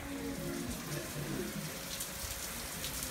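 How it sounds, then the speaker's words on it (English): Heavy rain pours down outside in Florida, a dense, steady hiss of drops beating on surfaces that fills the whole stretch without a break. "It's raining hard."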